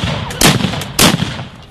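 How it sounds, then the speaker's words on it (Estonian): Historical re-enactors fire muskets at a Great Northern War style event in Valga, Estonia: two loud, sharp blasts about half a second apart, each with a short decaying echo. "Aga kõvasti tehti pauku ka muskettidest."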